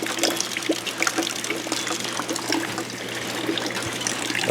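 Rainwater running off a house roof and trickling down, a steady splashing dribble with scattered drips, close and fairly loud, with no voices.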